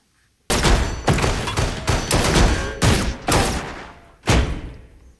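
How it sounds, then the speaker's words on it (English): Layered gunshots from several people shooting in a TV drama scene, a rapid fusillade of loud, close bursts firing in clusters with short pauses, isolated sound effects with no talk. "the biggest thing that's happening here are the gunshots"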